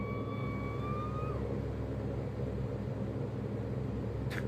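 Saab 340 turboprop engines at reduced power in an X-Plane 11 flight, a steady broadband drone with low rumble throughout, a fading whine early on and a brief click near the end.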